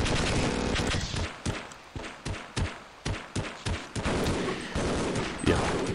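Rapid bursts of alien weapon gunfire in Half-Life fill the scene, loud volleys interrupted by a few separate punchy shots, with dense noisy action throughout.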